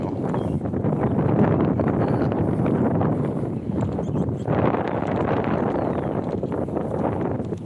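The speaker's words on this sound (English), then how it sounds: "Sorry about the wind." Strong wind buffets a microphone outdoors in a cemetery, a loud, continuous low rumble that swells and dips, with a brief lull midway before surging again.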